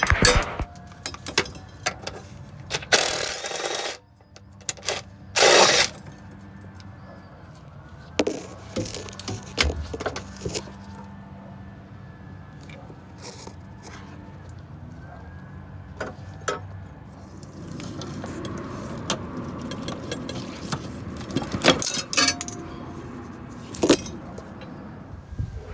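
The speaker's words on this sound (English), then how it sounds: "it's time to remove the bolts and bring out the fuel lines." Fuel tank bolts on a 94-95 Mustang are worked loose with metal tools, giving scattered clinks, rattles and scraping bursts separated by quiet stretches, close and fairly faint.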